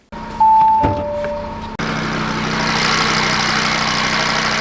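A 2026 Audi RS3's 2.5-liter five-cylinder engine, paired with a seven-speed gearbox, idles with a steady, fairly loud drone. A few short electronic tones come first, then the engine note settles in and holds to the end.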